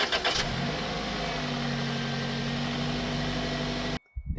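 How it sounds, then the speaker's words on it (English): A 1999–2006 Toyota Celica engine cranks and catches, then settles into a steady, fairly loud idle before being shut off abruptly near the end, with no talk. "start the vehicle up and let the engine run, shut it back off"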